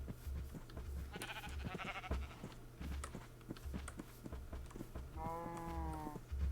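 Minecraft sheep give a short nasal bleat and a clearer wavering bleat near the end, over a soft background of clicks, footsteps and a low hum.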